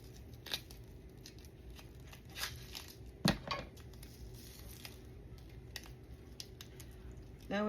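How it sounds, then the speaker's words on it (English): Scissors snipping open dried chiles, a few sharp close cuts and crisp crackles spaced over a quiet kitchen background, one cut standing out louder. "And I cut them with the scissors."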